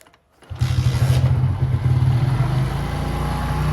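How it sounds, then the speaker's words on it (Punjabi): A motorcycle engine starts after a brief silence, catching and settling into a steady, loud idle with a low rumbling throb that continues to the end. "ਪਹਿਲਾਂ ਮੋਟਰਸਾਈਕਲ ਨੂੰ ਕਰ ਲਓ ਸਟਾਰਟ"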